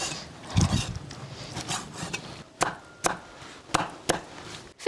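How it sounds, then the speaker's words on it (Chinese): Knife chopping boiled pork intestines into pieces on a cutting board, a series of sharp, separate thuds and cuts with short pauses between them, close and moderately loud, with no talking. "给它捞出来，切成段段儿"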